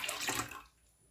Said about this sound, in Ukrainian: каструлю виливаю молоко та відправляю на вогонь до закипання